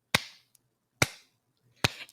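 Three sharp, isolated hand claps spaced roughly a second apart, close and fairly loud, each with a short ringing decay and silence between.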